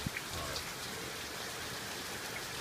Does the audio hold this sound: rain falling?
yes